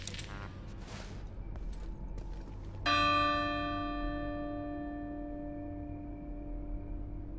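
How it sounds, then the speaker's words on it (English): In The Division 2, a switch is activated and triggers a single clear bell chime that rings out and fades slowly over several seconds after some faint clatter. "So we activate the switch and you will hear a little noise of a bell."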